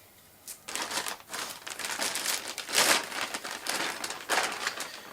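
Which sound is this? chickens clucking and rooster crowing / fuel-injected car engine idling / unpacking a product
unpacking a product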